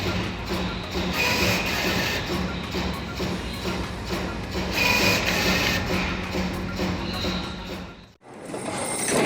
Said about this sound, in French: C'est comme si cette machine était en train de taper.